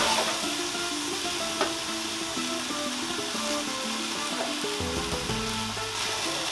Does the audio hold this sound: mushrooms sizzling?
yes